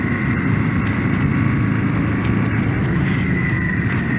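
A Royal Enfield Super Meteor 650 motorcycle engine drones steadily in third gear, a constant low rumble with a faint higher whine, close and continuous with no talk.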